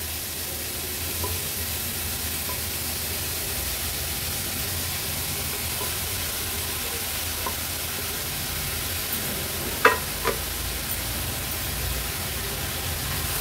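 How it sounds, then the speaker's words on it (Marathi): Finely chopped fenugreek leaves fry with onions and turmeric in a pan, a steady close sizzle with a few brief clinks and scrapes of stirring toward the end. "आता ही बारीक चिरून घेतलेली मेथीची भाजी आपण ऍड करूया"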